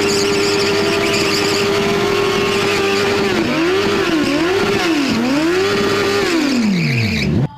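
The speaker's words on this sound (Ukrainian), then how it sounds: "Намалювати коло, здавалося, що може бути простіше, та замість пензля – власний мотоцикл." Motorcycle driven in a circle on a central town square, its engine holding a steady loud drone, then rising and falling in repeated surges as the rider throttles around the loop before cutting off abruptly.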